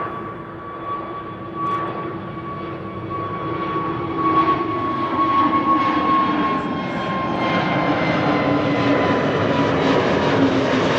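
Jet engines of an EasyJet airliner departing Amsterdam Schiphol Airport give a rising whining tone over a broad roar that swells louder through the stretch, with no voices.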